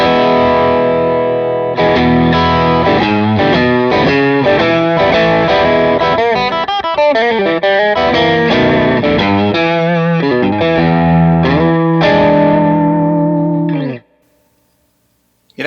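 Electric guitar played through an overdrive pedal with the guitar's volume knob turned down, giving loud, steady chords and riffs with a mild, slightly chorused crunch that ring for about fourteen seconds before stopping abruptly.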